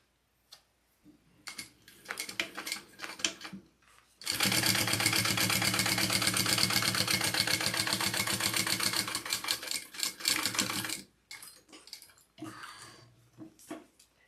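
A sewing machine top stitching a bag runs in a steady, loud, fast mechanical whir for about seven seconds, with quieter ticking and short stitch bursts before and after.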